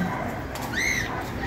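White birds feeding at the flowers of a mango tree give a single clear chirping call near the middle, over a steady outdoor background.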